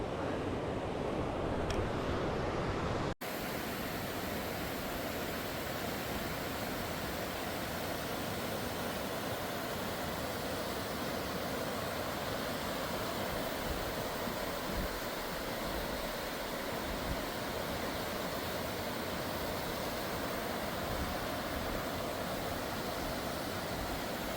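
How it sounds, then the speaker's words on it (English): A stream rushes steadily at a backpacking water crossing in Wyoming's Wind River Range, a continuous broadband flow that jumps in loudness after a brief quieter opening and then stays even. "This water crossing is a little more serious than the others."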